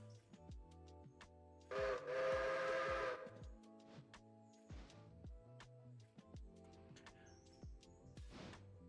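Steam locomotive whistle in the train game Railroader, a loud sustained blast lasting about a second amid quieter rail sounds, clanks and a softer later toot.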